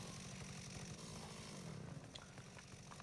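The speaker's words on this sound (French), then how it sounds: "ces tronçonneuses sont la meilleure arme du jeu" A chainsaw snarls in the video game Dead Rising Deluxe Remaster, a buzzing, rasping motor with choppy pulses, sitting fairly faint in a busy game mix with no speech.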